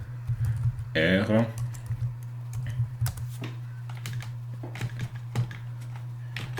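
Quick, uneven keystrokes on a computer keyboard while R code is typed, close and clear over a steady low hum, with someone speaking briefly between bursts.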